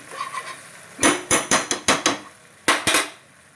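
A metal spoon stirs ghee in a pan for motichoor laddu, making a string of about eight sharp, loud clinks and scrapes against the vessel in an uneven rhythm, close up and with no speech.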